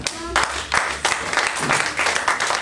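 A church congregation claps and cheers in praise, a burst of applause breaking out and continuing in uneven waves, fairly loud and close, with voices mixed in.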